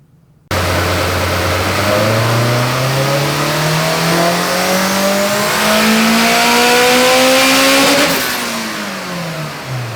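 A turbocharged Honda engine with a custom turbo manifold revs hard on a dyno, a loud sustained rising drone that climbs steadily for several seconds, then drops off as the throttle lifts.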